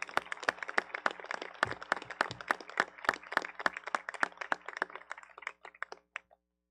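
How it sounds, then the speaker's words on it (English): A small crowd claps for graduating high school students at a graduation ceremony, sharp individual hand claps close by in a quick irregular patter that lasts several seconds and then stops abruptly. "I think all these kids need a round of applause."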